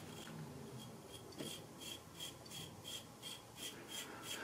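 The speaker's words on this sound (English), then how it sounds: "with this razor, am shaving the cream and letting the whiskers take care of themselves" A Gillette single ring safety razor scrapes shaving cream off whiskers in a steady series of short, soft rasping strokes, close and quiet with no talking.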